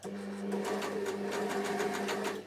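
A Bernina L450 overlocker stitches down the side of fabric for a fabric weight, a steady, close, rapid mechanical whirring hum at an even pace, trailing off at the end.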